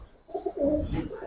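Pigeons at a pigeon market cooing: a short soft burst of low throaty coos, close but fairly quiet, with a faint high chirp alongside.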